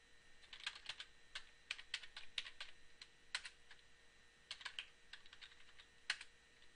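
Close, crisp keystrokes tap out commands on a computer keyboard while configuring network routers, arriving in quick irregular clusters with brief pauses between bursts, and no talking over them.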